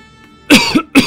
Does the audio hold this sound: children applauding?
no